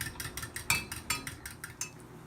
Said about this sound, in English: I'll come back to you while still mixing my eggs